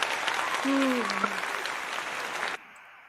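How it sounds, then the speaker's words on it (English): Dense clapping from a crowd, steady and fairly loud, with a brief voice under it, then cutting off suddenly near the end. "All I got is an applause."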